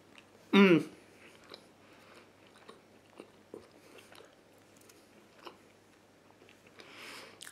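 Someone bites into a thick, chewy Bounce snack ball, giving one loud close bite followed by faint, soft chewing and small mouth sounds over several seconds.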